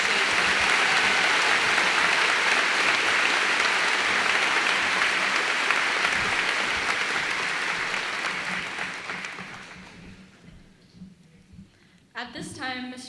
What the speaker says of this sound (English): Please join me in a round of applause in recognizing our 2024 foreign exchange.